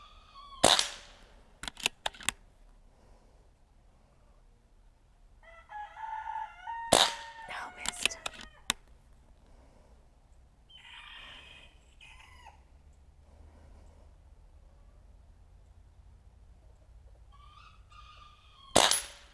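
Barra 1100Z .22 air rifle shots fired offhand at bullfrog steel targets out to 25 yards, several sharp cracks spaced irregularly, each followed by ringing metallic pings from the steel, with a rooster crowing in the distance.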